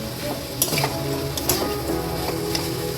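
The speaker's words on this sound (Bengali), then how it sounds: "এই ডালটা দিয়ে খুব করে এই সবজিগুলোর সাথে মিশিয়ে নেব" Mung dal that has already been fried is stirred together with vegetables in a hot pan, giving a continuous sizzle with light spoon scrapes and clinks scattered across the clip.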